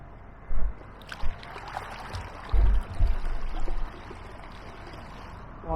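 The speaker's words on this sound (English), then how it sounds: "You can hear the chop on the front of the kayak as we're going along." Choppy water slaps against the bow of a motorised kayak moving downstream on the River Medway on a blowy day, giving a few irregular low thumps and splashes over a soft, steady motor hum.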